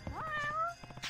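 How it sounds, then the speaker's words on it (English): Cat meowing in the video game Judgment: one short, clear, rising then falling meow, close and alone, followed by a few soft game sounds. "No, I want to see the cat."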